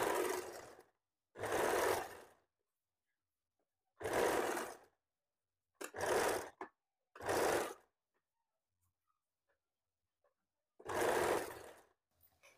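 A sewing machine stitches a blouse lining in six separate close, whirring runs of about one second each. Silent gaps of varying length fall between the runs.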